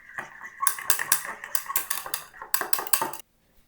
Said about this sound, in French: On remélange un petit peu.